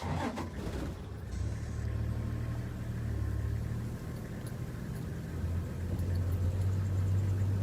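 A safari vehicle's engine rumbles steadily as it drives slowly forward, a low continuous drone close by with slight shifts in pitch and no talking.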